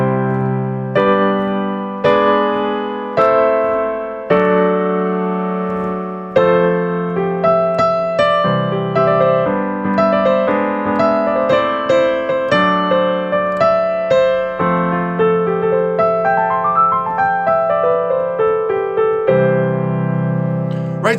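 A chord progression plays on keys, bright repeated chord stabs in a steady rhythm with a melodic line moving above, loud and clear with no voices over it.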